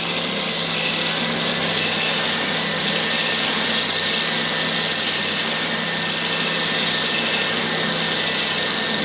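A wet and dry shop vac (Ridgid R15VAC) running alongside a spindle sander in a woodshop, giving a loud, steady broadband roar with a whining motor tone that holds without a break throughout.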